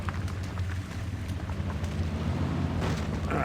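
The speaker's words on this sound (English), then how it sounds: "That engine sounds awesome." An old truck engine in the Mudrunner: Spintires video game, heard as a steady low rumbling drone that runs throughout, mixed with broadband noise, with no voices.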